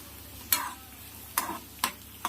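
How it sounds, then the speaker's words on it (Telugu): Onions and curry leaves frying in oil for a tempering with a pinch of asafoetida, stirred until light brown; three sharp stirring scrapes stand out over a low, steady sizzle, close and alone. "ఇలా కలుపుకొని ఆనియన్స్ లైట్ బ్రౌన్ కలర్ వచ్చేంత వరకు ఫ్రై చేసుకోవాలి."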